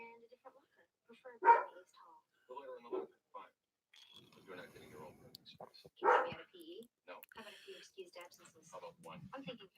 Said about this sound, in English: I gotta let this dog in, or he's not gonna stop